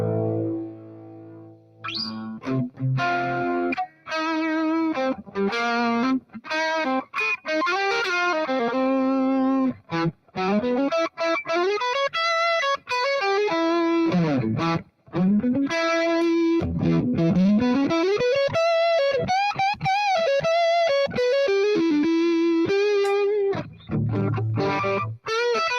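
An electric guitar played through a Spark amp on the Super 100 preset with the compressor on, giving a distorted, effects-laden tone. It plays a continuous lead line with bends and slides, loud and close, with no talking.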